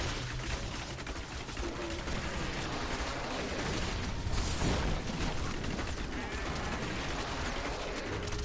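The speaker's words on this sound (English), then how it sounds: "I do like the explosions though." Explosions from bolas attacks in a video game burst repeatedly in a dense, continuous barrage, loud and crackling with no letup.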